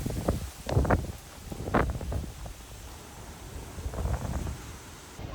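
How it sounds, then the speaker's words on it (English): Gusty wind buffets the microphone in low rumbling bursts that rise and fall, with a rustling wash underneath and no voices. "It's blowing in here now, but this is nuts. It's like extremely dark and extremely windy."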